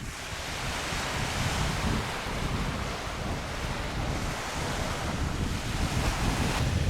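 Surf washing onto the beach at Locmariaquer in Brittany with strong wind buffeting the microphone, a loud continuous roar of waves and gusts with no voices.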